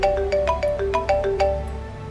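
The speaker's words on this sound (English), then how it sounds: "I woke up again to the sound of my phone's alarm clock blasting" A phone alarm clock blasts a loud, rapid electronic melody of repeating bright tones, close and continuous through the whole stretch.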